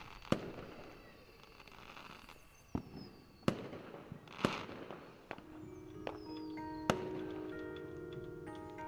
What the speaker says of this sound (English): The fireworks just started.